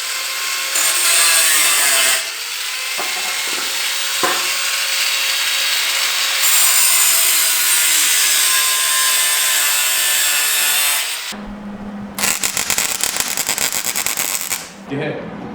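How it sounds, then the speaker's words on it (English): An angle grinder cuts through the metal tub of a Nissan 240SX, a loud continuous high-pitched whine and grinding rasp for about eleven seconds, then choppy bursts of cutting noise, close by. "All I gotta do is just take my angle grind to it and cut it up."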